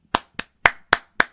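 Five sharp, separate hand claps ring out one after another at an unhurried, slightly uneven pace, close and clear against silence, with no crowd behind them.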